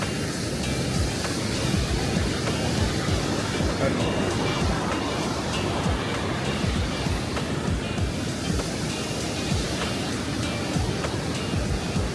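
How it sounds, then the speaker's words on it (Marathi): Himalayan river flowing between two mountains near a riverside temple, a steady, loud rushing of water with wind noise lasting throughout, no pauses. "दोन पर्वतांच्या मधून वाहणारी अखंड वाहणारी हिमालयामधून आलेली नदी"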